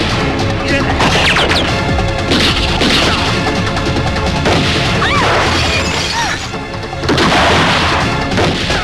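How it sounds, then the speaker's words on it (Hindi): Loud, dense burst of gunfire and crashing impacts fills the scene continuously, with shouting voices mixed in amid the chaos. "यहाँ चारों तरफ गोलियां चल रही हैं"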